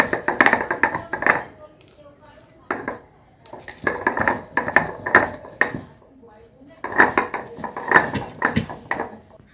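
Fried potatoes are crushed in a pan with a metal utensil, making three clusters of close, rapid scraping and clattering knocks separated by brief pauses.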